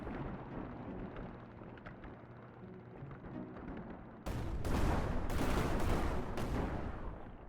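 Bursts of explosions go off in the incremental mining game Kin and Quarry, a sudden loud dense crackling barrage after a quieter rumbling stretch, with sharp repeated blasts continuing to the end.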